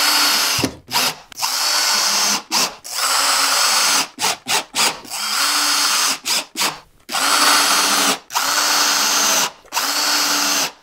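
Power drill driving screws into a wooden multi-curve jig for woodworking, in repeated loud whirring bursts of one to two seconds separated by short pauses, close up with no talking.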